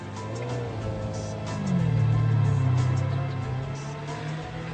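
A mid-engined supercar, a Ferrari Enzo or McLaren F1, gives a loud, close engine drone with gearbox whine from inside the cabin, rising in pitch and swelling midway before settling into a steady roar.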